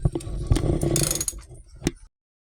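Worn bottom bracket on a Trek mountain bike turning by hand, giving a close, gritty mechanical grind with light clicks over about two seconds, then stopping.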